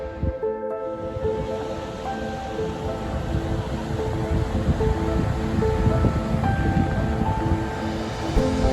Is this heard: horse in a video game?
no